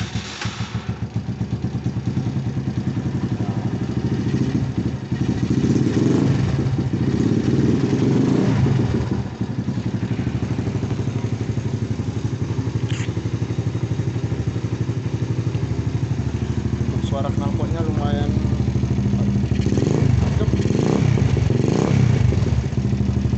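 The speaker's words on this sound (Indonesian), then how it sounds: "Mungkin om-om pengen dengar suara mesinnya." A Minerva 150R motorcycle with a Keihin carburetor is electric-started and held at a loud, rumbling idle close by, with a few throttle blips and some clatter.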